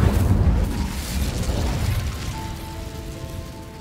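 A deep, rumbling fiery burst from the Incendio fire spell in Hogwarts Legacy, loud and roaring at the start, then crackling and fading into a lower rumble with a faint tonal hum.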